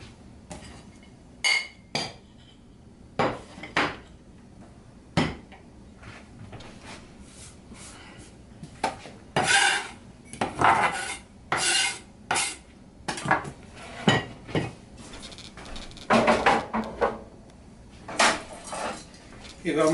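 Dishes and cutlery clink and knock in a kitchen while rice and battered chicken wings in pineapple sauce are plated, a steady run of sharp, close clatters and scrapes with brief pauses between them.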